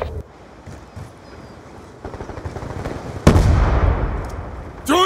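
A frag grenade explodes in a Call of Duty Black Ops 2 Domination match, one loud close blast with a long decaying rumble, preceded by scattered gunfire and followed by another sharp burst.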